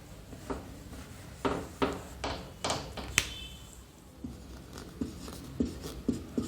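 Pen or chalk strokes on a board or paper come in short, quiet bursts, a string of rubbing scratches and taps with a brief pause in the middle.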